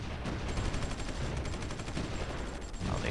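Tank and battlefield gunfire in the strategy game Supreme Ruler 2020, Uruguay against Paraguay: loud, continuous rattling bursts of rapid shots layered with heavier booms, steady throughout with a brief lull near the end.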